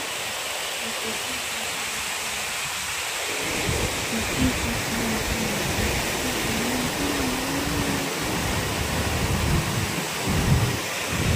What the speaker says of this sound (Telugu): చూడండి అక్కడ మంచి గాలి వాన